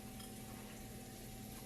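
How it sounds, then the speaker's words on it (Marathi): Surmai fish pieces coated in semolina and rice flour fry on a hot griddle with a faint, even sizzle and a few soft clinks of utensils, with no voices. "मस्त त्याला छान चुरचुरीत भाजून घ्यायचा."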